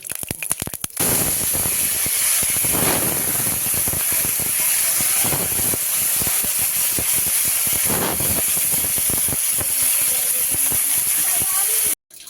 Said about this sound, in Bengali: লোটে মাছটা আগে ভেজে নেব